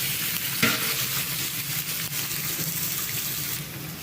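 A steady, dense sizzle of meat searing in hot oil, with a sharp crackle near the start and occasional stirring noises, close and continuous.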